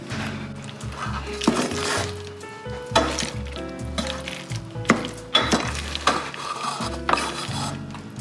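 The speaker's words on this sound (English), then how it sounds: "I'm just gonna stir it. Add some ham, so the ham kind of gets cooked with the cheese and macaroni." Macaroni with cheese and ham is stirred in a pot. A spoon scrapes and clinks irregularly against the metal over a soft sizzle, with a steady background hum beneath.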